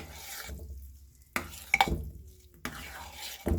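A spoon works through thick hot-process soap batter in a pot with a few scraping, sloshing strokes that come in separate bursts, each fading to near quiet before the next.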